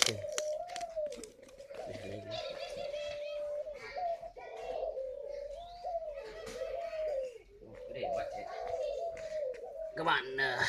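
A caged spotted dove cooing repeatedly in a steady, rhythmic low call that runs throughout, close by, with people and children talking over it and handling noises.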